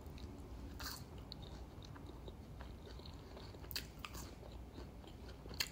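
Crisp bites and steady chewing of fresh fries from a Chicken King number one special, close to the mic and fairly quiet, with a few sharper crunches and no talking.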